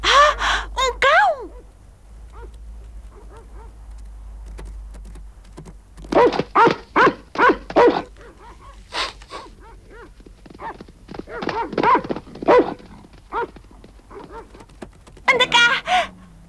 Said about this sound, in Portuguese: Um cão!